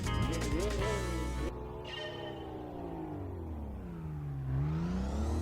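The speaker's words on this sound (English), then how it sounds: "Listen to the turbo." A turbocharged car engine in Gran Turismo 4 revs hard, then drops off with a whistling, bell-like spool tone before the pitch climbs again, a continuous drone with no talking.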